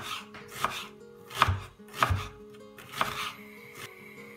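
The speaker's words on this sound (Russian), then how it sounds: "Лук нарезаем кубиками." A knife cubes an onion on a cutting board in a handful of distinct, uneven thuds, close and fairly quiet, with no talking.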